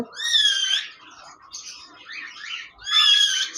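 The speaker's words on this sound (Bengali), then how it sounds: "এখানে দেখতে পাচ্ছেন একজোড়া কোকাটেল পাখি রয়েছে" A pair of cockatiels in a cage, an albino red-eye male and a lutino red-eye female, give two loud, close, rising whistled calls at the start and end, with softer chattering notes between.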